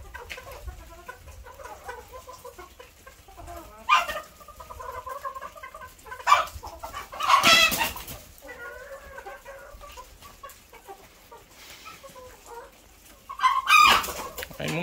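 Roosters in a cockfighting yard give scattered clucks with several loud crows breaking out over a quiet rural background, some close and sharp, others softer and farther off.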